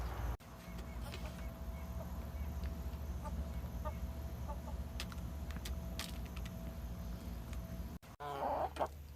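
Backyard chickens, a flock of hens, cluck softly at close range in a steady low murmur over constant background hum, with a louder rustle near the end.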